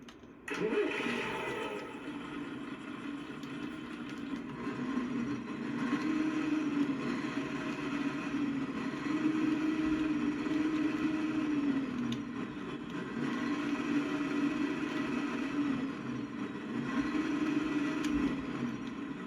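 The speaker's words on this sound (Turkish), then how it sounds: "motor sesine bakalım." A heavy MAN 32.270 truck engine in Euro Truck Simulator 2 idles and rumbles steadily, with a low droning hum that rises slightly in places, running alone without speech.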